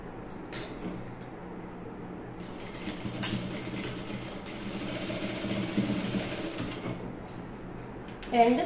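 A sewing machine stitches the shoulder seam of a baby top, running in short close bursts with a steady mechanical whirr, stopping and starting, and a faint voice speaks underneath.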